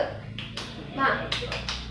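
Students in a biology class clap a quick rhythmic pep chant, with a few sharp hand claps set against children's chanting voices.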